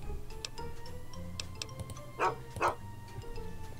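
A dog in the game Fallout 3 gives two sharp, close barks a moment apart, heard over a quiet ticking background with no speech.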